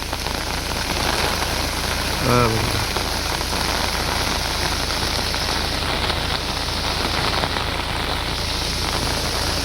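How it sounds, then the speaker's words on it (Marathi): Heavy rain pours steadily at a waterfall in Poladpur, a dense unbroken hiss filling the whole stretch, with a brief spoken phrase near the start. "नाही बघा पाऊस खूप पडतोय."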